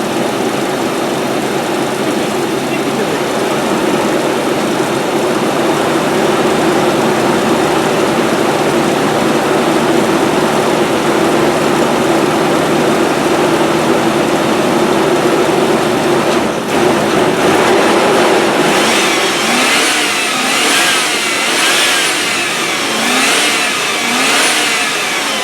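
A 1997 Land Rover Discovery 1 engine runs steadily at a fast idle, loud and close, with a constant droning hum throughout; a rhythmic fluttering pulse appears in the later part, and no one speaks.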